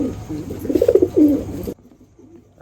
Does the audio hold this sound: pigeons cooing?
yes